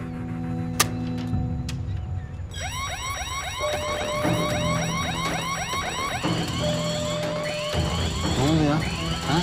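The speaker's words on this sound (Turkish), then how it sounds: "Yangın alarmı savcım." A loud, repeating fire alarm with rapidly sweeping electronic tones sounds continuously, layered with a steady high beep, while muffled voices and background noise continue underneath.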